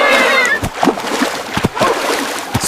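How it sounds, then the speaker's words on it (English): Cartoon water splash effect in an animated kids' adventure with a panda and a parrot, a bright splattering burst at the start followed by playful voices and quick sound effects throughout. "Splashy splash."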